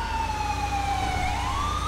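Police car siren wailing in the GTA5 video game, a steady rising and falling electronic tone continuous throughout the short stretch over a low rumbling engine bed, no talk.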